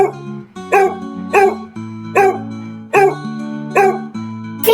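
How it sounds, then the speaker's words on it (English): A farm dog barks over and over, with about seven evenly spaced, close, clear barks over a soft steady musical backing. "Say hi to our loyal and playful farm buddy, the dog."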